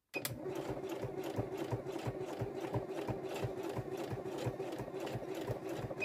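A sewing machine runs continuously with a steady hum and rapid rhythmic needle thumps as the needle is forced through thick fabric, heard up close without talk.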